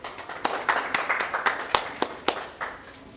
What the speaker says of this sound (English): Please welcome her with a huge round of applause.